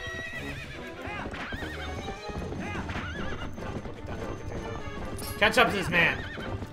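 Epona the horse gallops with rapid clip-clopping hooves and lets out loud neighs in The Legend of Zelda: Twilight Princess, playing over game music with a voice speaking briefly.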